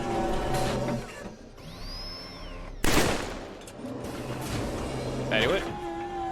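In Killzone 3, a weapon fires from cover at a distant target, producing a series of close, punchy shots scattered among game effects and background noise, with a voice talking over it.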